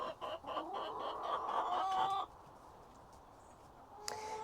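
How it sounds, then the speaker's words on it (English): Sussex and White Leghorn chickens on an allotment cluck repeatedly at close range for about two seconds, then the yard goes quiet before a brief squawk near the end. "as you can hear, this is mainly the Sussexes. And I think the white leghorn, who are very vocal"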